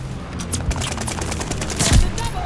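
Automatic MP40 submachine gun fire in Call of Duty Warzone, a few dense crackling bursts layered over constant game background noise, loudest near the end, with no talk.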